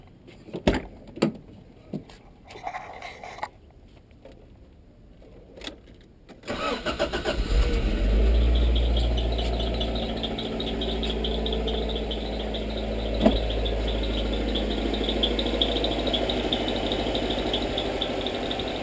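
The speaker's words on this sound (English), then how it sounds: "So we're going to go ahead and start the car and show you." A Toyota AE86 with a freshly repaired fuel pump cranks over after a few clicks and taps, catches, and settles into a steady, rumbling idle close by, with a faint high insect-like chirp over the engine.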